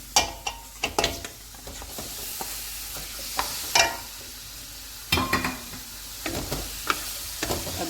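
Beef sears in a hot pot for aloo gosht, a low sizzle under repeated sharp clinks and scrapes as a spoon stirs and knocks against the metal, with irregular bursts of clatter close by.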